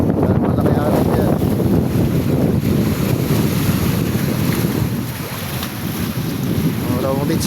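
Big waves and rushing water churn continuously against a damaged flood-control structure under strong wind buffeting the microphone, loud and close, with a voice briefly heard at points.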